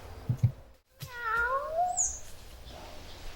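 A cat meows during an outdoor theatre play staged in a forest, one clear drawn-out meow rising and falling, heard close after a brief lull, with a few soft thumps just before it.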